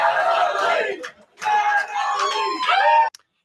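Crowd of mostly men cheering and whooping at a stand-up comedy show, loud overlapping shouts in two bursts with a short lull between, then cutting off abruptly.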